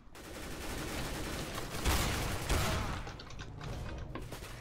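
AUG assault rifle gunfire in CS:GO Arms Race, a dense stream of rapid shots over a busy in-game background, with a couple of heavier blasts in the middle before the firing thins out.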